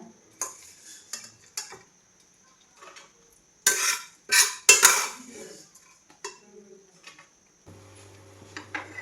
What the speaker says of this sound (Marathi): छान असा तळला गेलेला आहे आता बाजूला काढून घेते कांदा